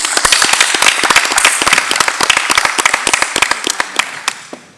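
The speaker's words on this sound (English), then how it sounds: "I would ask if we give a round of applause for Wilson Walker." Applause from a district board meeting audience honoring a person receiving a nameplate, with dense sharp claps fading slightly over nearly five seconds.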